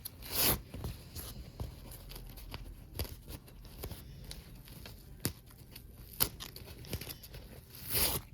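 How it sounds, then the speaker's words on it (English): Adhesive tape peeled in short crackling strips off a finished embroidery hoop project at a table, with scattered rustles and a few louder rips near the start and end, no talking. "Take this tape off."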